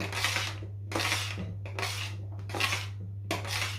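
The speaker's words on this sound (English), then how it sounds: "I'm picking off the little stuff that's on top, and then I'm going to give it a stir." A spoon stirs authentic Jamaican cornmeal porridge in a pot. It makes about five rhythmic scraping strokes against the metal, evenly spaced, over a steady low hum.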